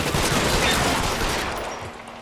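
Pistol gunfire in the L.A. Noire video game. A dense, loud burst of shots and noise that slowly tails off over a couple of seconds, with no talking.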